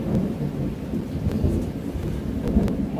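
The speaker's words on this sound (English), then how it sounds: "Lots of thunder out there." Low thunder rumbles outside during a rainstorm, a deep continuous roll under steady rain, with no talk in this moment.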